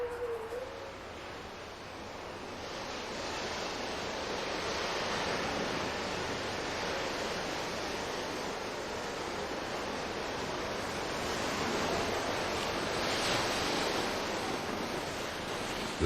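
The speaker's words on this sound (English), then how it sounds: "As the surf spends its fury, they dry their coats in the last rays of the winter sun." Ocean surf rolls and crashes steadily on a winter shore at sunset, a continuous broadband wash of breaking waves with gentle swells in loudness, heard alone without voices.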